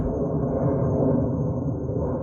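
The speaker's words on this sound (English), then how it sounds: "That is the sound of an airplane" A steady low roar of a jet airplane passing overhead, continuous and fairly loud, with no other sounds on top.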